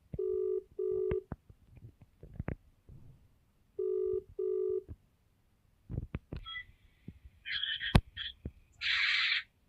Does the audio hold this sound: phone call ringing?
yes